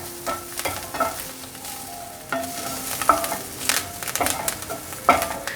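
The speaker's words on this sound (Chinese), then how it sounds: "让锅子的余温把香菜炒软" Fresh coriander is stirred into carrots and shiitake mushrooms in a wok with the heat switched off, giving a soft sizzle broken by rhythmic spatula scrapes and taps, close and without talk.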